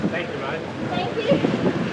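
Stiff wind buffets a boat at sea, a steady rough rush with gusting swells, moderately loud and close to the microphone.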